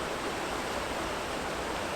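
Raging side creek after heavy flow, a steady broadband rush of churning water filling the whole clip at an even, close level with no voices.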